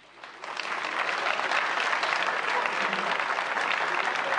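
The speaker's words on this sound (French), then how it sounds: "applaudissons-le, camarades" Comrades at a political gathering in Seraing, Belgium, break into applause that swells quickly in the first second, then settles into a sustained, even roar of many hands clapping.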